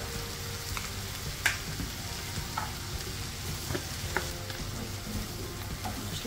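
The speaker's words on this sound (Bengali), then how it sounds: "মশলাটা খুব সুন্দর করে কষাবো" Spices fry in a pan with salt, chili powder and turmeric powder, giving a continuous soft sizzle and crackle with occasional stirring taps, close and moderately quiet without voices.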